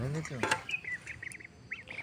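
Ducks quack close by with short nasal calls in a backyard pond setting, right after a person speaks briefly at the start.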